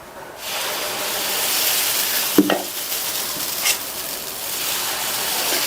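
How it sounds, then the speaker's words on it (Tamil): Thick dosa batter poured onto a hot, lightly oiled pan raises a loud, steady sizzle with a sharp splashy burst partway through and a smaller flare later, close up and alone. "ஒரு டிராப் எண்ணெயை விட்டுட்டு நல்லா தொடச்சி விட்டுட்டு தோசையை ஊற்றிடலாம்."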